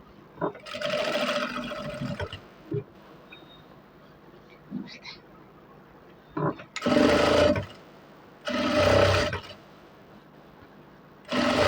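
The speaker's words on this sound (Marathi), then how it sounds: "नंतर एक शिलाई मारून" A sewing machine stitches a shirt in several separate runs, loud whirring bursts with short pauses between them, close by, with faint sounds from handling the cloth in the gaps.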